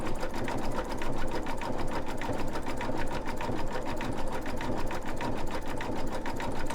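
Brother Essence VE2300 embroidery machine stitching a pumpkin design in the hoop, a fast, steady, close whirring rattle running continuously without speech.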